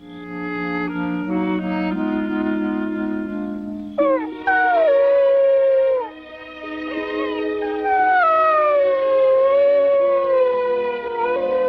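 A little dog howls in long, wavering, siren-like tones, several drawn-out rising and falling cries that sound loud and close, with no talking.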